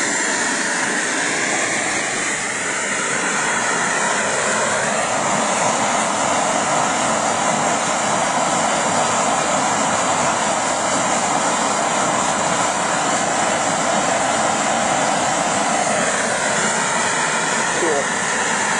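A Kamps KJ-66 radio-control model jet turbine idling at about 37,000 RPM, a steady, loud broadband roar and whine holding constant throughout, close by, with a person talking over it.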